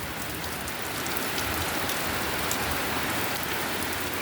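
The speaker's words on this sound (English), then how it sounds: "It's raining" Rain falls constantly on a wet day, a thick, unbroken patter of drops hitting nearby surfaces that stays level and loud throughout, with nobody talking.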